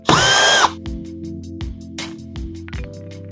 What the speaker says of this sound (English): We're going to be using a Phillips number 2 driver, and we'll just pull out all of our fasteners up on the top here.